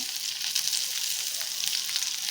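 Spices and peppercorns with dried chillies fry steadily in a pan for a mutton curry, giving a dense, even crackling sizzle close up, with no talk.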